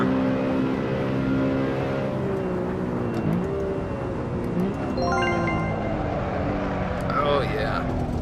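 A heavy BMW street car in the Assetto Corsa racing game gives a steady engine drone that dips and climbs through gear changes while someone talks over it throughout.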